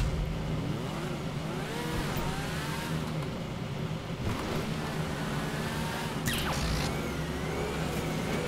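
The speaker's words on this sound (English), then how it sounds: "even though it's a light cycle, it still has a regular combustion engine noise" A light cycle in the video game GTA5 produces a combustion-engine whine that climbs and falls in pitch through repeated revs, with a whoosh near the end, heard steadily throughout without talk.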